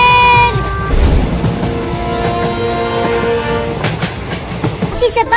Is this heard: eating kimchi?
no